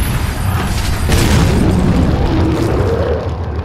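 A grenade explodes in the video game Resident Evil 4: one loud, sustained boom with a deep rumble that fills the whole stretch and fades only slightly toward the end, with no speech over it.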